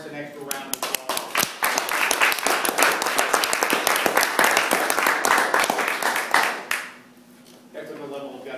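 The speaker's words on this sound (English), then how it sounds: "I think that by itself warrants an extra round of applause." Audience applause after a speech evaluation, dense, steady clapping from a roomful of people that holds for about seven seconds before fading out abruptly into quiet room tone.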